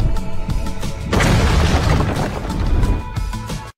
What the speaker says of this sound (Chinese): 是一个可以发射一枚爆破弹穿透目标表面并自动引爆的榴弹发射器